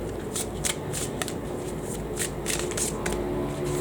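Tarot cards are shuffled by hand in a series of crisp riffling bursts, close and fairly loud, repeating in quick irregular flurries with no talk over them.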